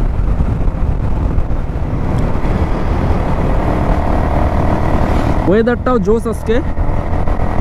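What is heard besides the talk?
motorcycle riding at full throttle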